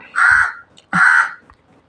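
Two loud, harsh crow caws close by, evenly spaced about a second apart, with quiet in between.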